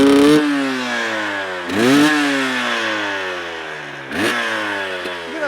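Dirt bike with an XTNG carburetor warming up, engine loud and close, blipped into three sharp revs that each climb and settle back to a steady idle.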